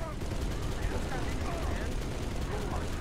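Gunfire in the video game Halo Reach crackles in rapid bursts beneath a dense wash of game noise, steady and fairly loud throughout with no clear pauses.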